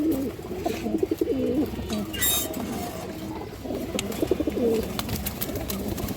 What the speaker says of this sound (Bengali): এটা একটা অলরাউন্ডার কবুতর মাদি কবুতর